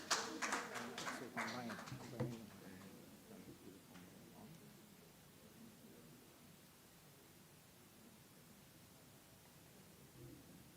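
An audience at a cancer-care conference gives a short burst of applause for a speaker on radiation and systemic therapy, then the clapping thins out and fades into quiet room noise, sounding faint and distant.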